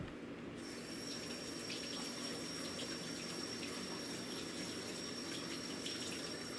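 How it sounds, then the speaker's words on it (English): Tap water runs steadily into a sink as someone rinses their hands clean while baking a chocolate cake, a continuous even gush with faint clatter on top. "Real quick, I'm gonna wash this crap off my hands."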